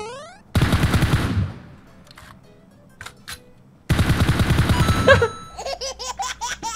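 Automatic gunfire in the PUBG Mobile video game: two loud sustained bursts of rapid shots, with a few isolated single shots between them and a quicker, rattling volley near the end.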